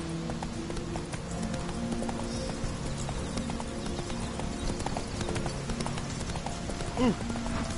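Horse hooves clip-clopping steadily under a rider in the video game The Witcher 3, moderately close and rhythmic beneath music and ambience, with a brief voice late on.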